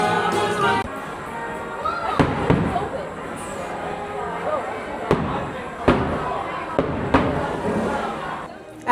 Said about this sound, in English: The fireworks are going on right now